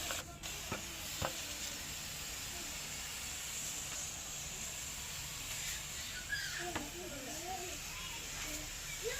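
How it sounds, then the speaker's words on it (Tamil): A spray bottle mists homemade liquid fertilizer over a flowering plant, giving a steady, soft hiss that runs the whole time over faint outdoor background. "இதில் மொட்டுக்கள் வைக்கல, அதனால் இதை நம்ம ஃபுல்லாகவே ஸ்ப்ரே பண்ணிக்கலாம்."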